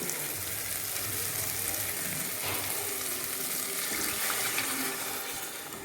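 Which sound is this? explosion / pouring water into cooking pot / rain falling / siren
pouring water into cooking pot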